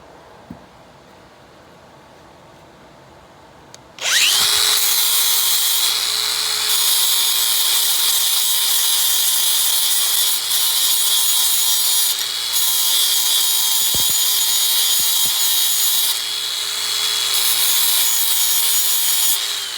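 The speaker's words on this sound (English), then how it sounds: "See, flap wheel does nicely." A flap wheel on a power tool sands rust and gunk off a throttle body from a 1994 GMC C3500, starting abruptly as a loud, steady, high grinding whir that holds with slight dips in pitch and pressure.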